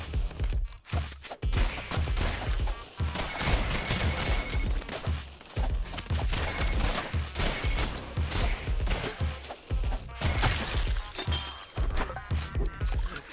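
Rapid, dense video game gunfire from a shooter called Mad Circles, a loud continuous barrage of sharp shattering bursts with no gaps, overlapping impacts and crackling breaks throughout.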